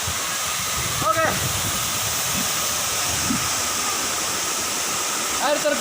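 Sidoar waterfall, a steady rushing roar of water heard up close, with brief voices breaking in near the start and the end.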